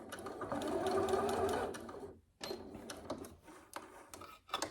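Close up, a sewing machine back stitches on a dress bodice: a steady whirring run, a brief pause, then a second burst of stitching with clicky mechanical ticks.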